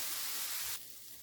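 Stir-fry vegetables seasoned with a little salt sizzle in a Ninja Neverstick skillet with very little oil, a steady bright hiss that softens partway through.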